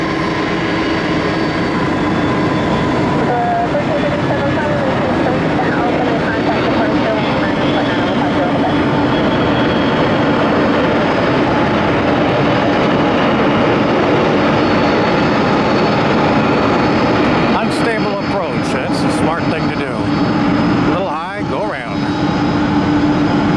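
A UPS MD-11 jet performs a go-around at Tampa airport, a loud sustained engine roar filling the whole stretch, with brief wind buffeting near the end.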